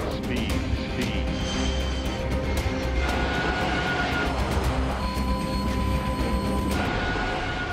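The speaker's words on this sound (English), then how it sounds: "The plane touches down" An overweight Airbus A380 airliner touches down with only about half its brakes working, a loud steady roar of engines and rolling with rattles and sharp clicks, tones shifting as it slows.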